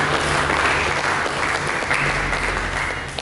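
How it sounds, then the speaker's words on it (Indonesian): Church congregation applauding during a sermon, a dense sustained burst of clapping from a large crowd filling a hall, steady throughout. "Berikan tepuk tangan bagi Yesus."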